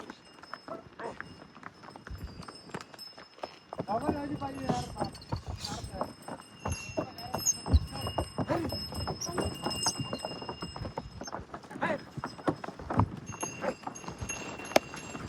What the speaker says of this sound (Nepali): हामी घोडामा सवार गर्दैछौँ